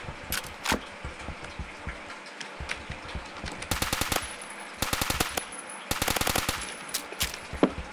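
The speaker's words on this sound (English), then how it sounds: "Always remember the recoil of this gun." Gunfire in the Phantom Forces video game, with scattered single shots and several rapid automatic bursts in quick succession, sharp and fairly close over a low background hum.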